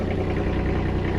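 A compact tractor engine idles in a steady low, throbbing rumble with a faint regular pulse, close and continuous for a brief moment with no voices.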